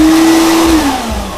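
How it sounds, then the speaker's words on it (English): A vacuum cleaner whirring loudly and close, its motor tone dropping slightly in pitch as it runs alone. "Vacuum."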